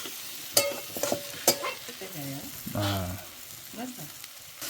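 Sayar dhode, a wild leafy vegetable, tossed into a hot pan with salt and stirred, giving soft sizzling with several sharp scraping clicks of a spoon and a brief louder hiss near the middle, close and moderately quiet.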